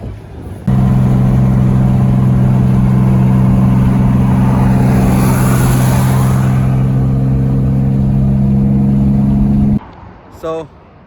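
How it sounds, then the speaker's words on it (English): A car engine revs steadily and loud as the vehicle accelerates away near Tijuana, a strong sustained drone lasting about nine seconds before cutting off abruptly, followed by a brief clatter. "So, gassing it up from here."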